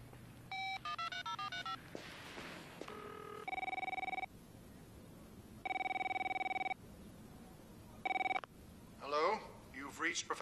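Telephone rings after a redial: a rapid burst of dialing tones, then three long electronic ring tones with pauses between them, loud and clear, followed by a voice speaking.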